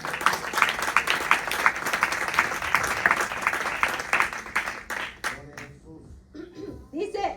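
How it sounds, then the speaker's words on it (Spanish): Church congregation applauding the Lord during a Spanish-language service, with lively rhythmic group clapping that dies away after about five seconds, then scattered voices and light chatter. "Denle un aplauso al Señor."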